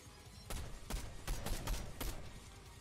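Gunfire from a video game played on a Twitch stream: about five sharp broadband shots at uneven intervals over a steady background bed, moderately loud with no talking.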